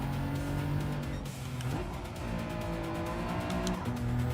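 A race car in Gran Turismo 7 brakes hard into a corner, its engine note dropping through a downshift while the tires squeal steadily, then the motor pulls again under continuous loud running.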